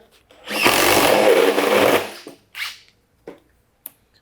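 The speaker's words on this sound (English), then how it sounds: "These are made for fast drilling" A power drill with a Diablo SpeedDemon self-feeding spade bit bores loudly through wood for about a second and a half, followed by a few short thumps and clatters.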